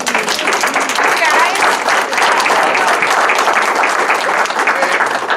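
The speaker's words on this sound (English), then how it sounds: "let's give our panel a round of applause" An audience at a community listening session applauds the panel, loud and dense, sustained clapping throughout, with voices mixed in beneath it.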